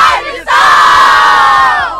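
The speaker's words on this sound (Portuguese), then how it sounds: "O grito de guerra!" A crowd of scouts at a camporee shouts a war cry together. A brief rising call comes first, then a loud, sustained unison yell that holds for over a second and a half before tapering.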